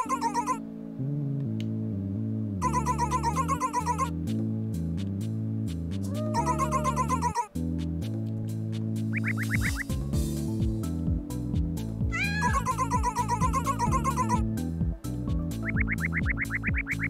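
Repeated cat meows in the Mad Rat Dead rhythm video game, short wavering cries in bursts over a throbbing, steady electronic music beat.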